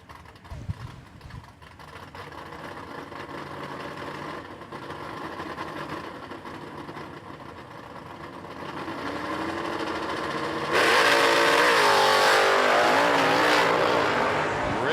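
A 1969 Camaro drag car idles with a lumpy rumble, revs in rising steps, then launches down the strip into a loud, full-throttle roar that carries to the end.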